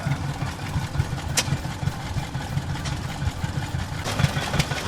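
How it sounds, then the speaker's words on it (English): An antique gas-engine tractor idles at an outdoor engine show in Dublin, New Hampshire, its low engine thumping in a steady, slightly uneven rhythm that stays moderately close and carries on without talk. "I don't know much about old school tractors like this, but it sure is neat watching them work"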